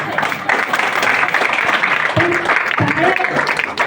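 Audience clapping at a gathering, a steady mass of hands mixed with crowd murmur and a voice briefly rising over it toward the end.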